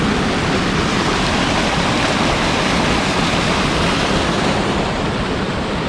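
Water pours steadily out of a rock-lined swimming hole at a waterfall in Laos, a loud, unbroken rushing wash heard close by with no voices.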